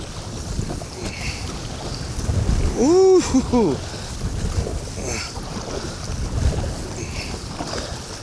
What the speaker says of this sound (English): Man, that is some strong wind.